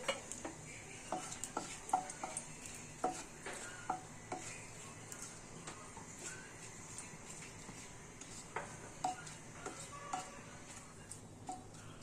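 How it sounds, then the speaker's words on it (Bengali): Bay leaves and dried red chillies crackle in hot oil for a jackfruit kofta curry, with a quiet sizzle under frequent sharp ticks and clinks of a utensil against the pan, close but low in level, no voices. "এবার আমি এই তেলে দুটো তেজপাতা আর দুটো শুকনো লঙ্কা ফোড়ন দিলাম।"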